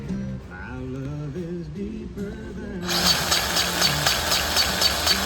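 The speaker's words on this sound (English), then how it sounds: "I'm gonna use my very handy DeWalt cordless grease gun" A DeWalt cordless grease gun pumps grease into the front axle of a Massey Ferguson 1560 tractor, starting with a low motor hum and then building into a loud, steady, buzzing drive from about three seconds on.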